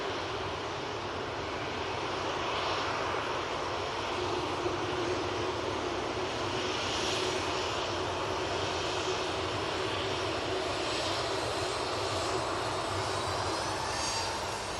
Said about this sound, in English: Beautiful landing there from the Etihad, very stress-free.